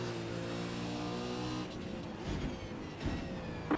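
A V8 Supercar racing at Virginia International Raceway, its engine droning steadily from the cockpit, then another race car sweeping past on the left with a rising and falling roar.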